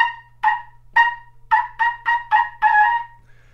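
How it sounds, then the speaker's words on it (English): A trumpet sounds a series of short, separate notes on the C above the staff, played while letting all the air out, clear and close with brief gaps between blasts over a low steady hum. "I'll take the C above the staff, let all the air out."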